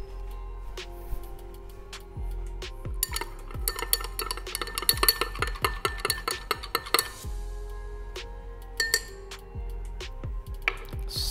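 Bar spoon clinking against glass while stirring an Oreo milk cocktail with chocolate, a rapid run of bright metallic taps and ticks in the middle, near and fairly loud, with no one talking.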